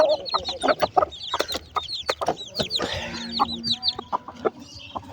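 Several chickens cluck and squawk close by in a busy, overlapping chorus, with sharp scratchy bursts and no talking.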